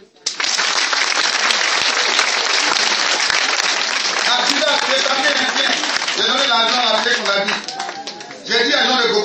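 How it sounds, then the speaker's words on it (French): A crowd applauds to acclaim Jesus. The clapping is loud and continuous for several seconds, with voices mixed in, and it dips briefly near the end. "On acclame Jésus."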